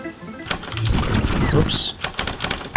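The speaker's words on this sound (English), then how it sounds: "If I just mash the keyboard" Rapid clattering of computer keyboard keys being mashed for a typing game, a dense burst of close clicks with a short pause near the end, mixed with a brief spoken exclamation.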